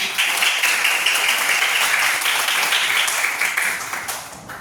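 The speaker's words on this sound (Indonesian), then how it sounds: "Iya, tepuk tangan." Schoolchildren in a classroom lesson on the Trimurti clap together in a loud, even burst that fades toward the end.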